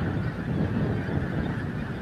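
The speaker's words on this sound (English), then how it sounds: "Apparently there's still geese coming in from the east" Wild geese honk as they fly in from the east over Montrose Basin Wildlife Reserve at dusk, a steady chorus of many overlapping calls at a distance with some wind noise.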